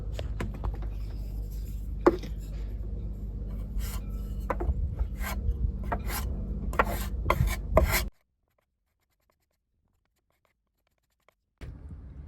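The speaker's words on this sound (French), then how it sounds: "je vais passer des petits morceaux de pâte à bois là dans les petits trous qu'il y a un peu partout dans le" Small bits of wood filler paste are pressed and smeared into little holes across a wooden surface, producing close scraping and rubbing strokes with sharp taps for about eight seconds, then near silence before a brief scrape resumes.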